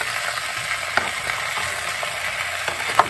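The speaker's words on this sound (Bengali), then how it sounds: "এবার ঝিঙেটা দিয়ে দিলাম।" Ridge gourd lands in a hot pan and sizzles with a dense, steady frying hiss throughout, close and fairly loud, with a few faint clicks from stirring and no speech.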